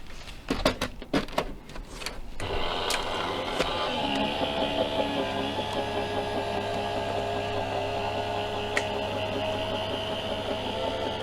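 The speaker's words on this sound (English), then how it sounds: "then we will run that through our die cutting machine" Electric die cutting machine running a circle die through card, a few clacks and knocks at the start, then a steady motorised whirring grind that continues evenly, with an occasional faint tick.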